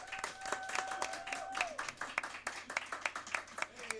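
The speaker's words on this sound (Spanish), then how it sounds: "Un aplauso." A small group claps steadily for a few seconds, moderately loud and close, with a brief tone fading out early on.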